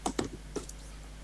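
Several quick keystrokes on a computer keyboard while a coding question is typed into CoderPad. The taps come close and fairly soft, in a short irregular burst.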